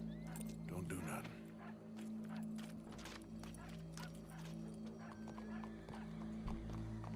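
A horse in Red Dead Redemption, heard as hoof clip-clops and snorts mixed with other animal noises in a busy game scene, set low beneath a steady hum and talk.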